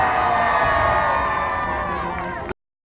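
A large crowd at a political rally in Salford roars and cheers in a loud, dense, sustained wash of voices that cuts off abruptly.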